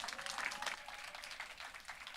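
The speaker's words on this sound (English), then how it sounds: "Guys, clap it up for that" Clapping from the audience at a public art forum in San Antonio, a fairly faint, steady patter of many hands heard from a distance.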